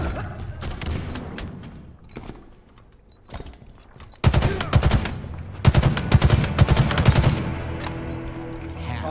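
Gunfire in the Halo Infinite video game: rapid automatic bursts and repeated loud shots, sparse at first and then a dense, sustained volley in the second half, with game voice callouts in the background.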